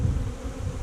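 Honey bees buzz steadily inside a hive, a close, dense drone filling the short moment without a break.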